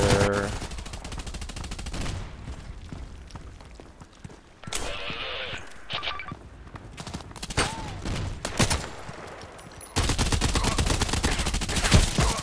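Rapid bursts of gunfire from an IR gun in the online shooter Contract Wars, on the Terminal 2 map, crackling in clustered volleys among other game sounds, with a loud continuous stretch near the end.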